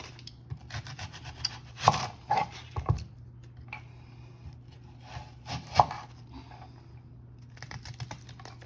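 A regular onion being chopped on a cutting board for nom tok neau, a few scattered knife thuds and scraping rubs, close and moderately loud over a steady low hum.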